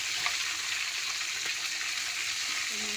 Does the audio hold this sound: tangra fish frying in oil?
yes